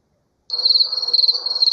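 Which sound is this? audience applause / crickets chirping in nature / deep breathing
crickets chirping in nature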